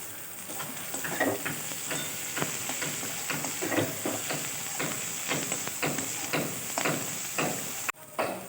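Garlic and green chilies fry with softened, browned onions in a hot pan, a continuous close sizzle with rhythmic scraping as a spatula stirs them, ending in a brief sharp cutoff.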